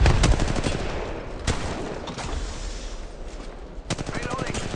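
Gunfire in the mobile shooter Apex Legends Mobile: rapid automatic bursts of shots, loud and close, with short pauses between bursts.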